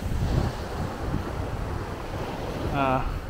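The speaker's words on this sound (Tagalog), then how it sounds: "malamang medyo mahangin yung audio ngayon kasi wala akong mic na gamit. So yan yung dagat" Sea waves wash in at Sual, Pangasinan beneath heavy wind buffeting the microphone, a rough, continuous roar with a brief tonal squeal near the end.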